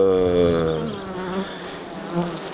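Black honey bees buzzing loudly around hive colonies in a natural swarm, a dense close drone of many wings that holds steady and alone throughout.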